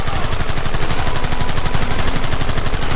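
Rapid gunfire in Red Dead Redemption on PS5, a dense, loud burst of repeated shots rattling steadily for about three seconds with no voices.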